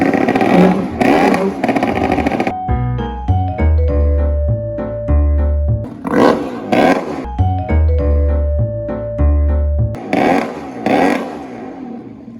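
A race boat engine revs hard in repeated bursts, its pitch climbing and dropping between throttle blips, loud and close with clattering mechanical noise.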